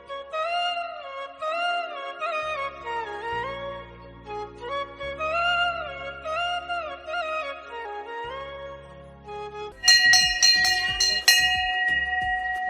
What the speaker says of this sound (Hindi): बहुत अच्छा लग रहा है जब घंटी बज रही है